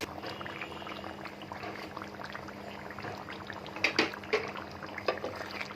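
Green chilies and garlic simmering in a pan for a pickle, a quiet, steady bubbling with soft scattered pops and a few slightly louder sputters near the end.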